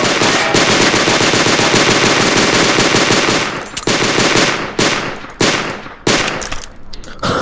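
Rapid automatic gunfire at a video game shooting range, loud and sustained bursts of machine-gun fire with brief pauses near the end, no talk.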